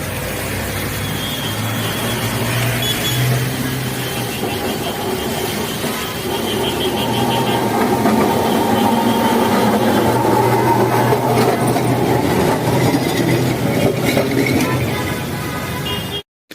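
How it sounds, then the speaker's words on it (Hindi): A Kolkata tram approaches through the Ballygunge area with a steady, fairly loud rumble of rail wheels and motor, plus a low hum and traffic noise around it, continuous for the whole stretch and without talk. "वो ट्राम आ रही है उधर से"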